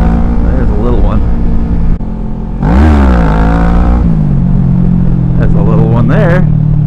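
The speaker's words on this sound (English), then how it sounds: "This Ninja 650 is kind of heavy, and it just doesn't have the grunt that a sport bike does" A Kawasaki Ninja 650 motorcycle revs hard in second gear during wheelie practice, with a loud, close engine surge that rises and falls. A rider talks over it and a steady wind-buffeted rumble runs underneath.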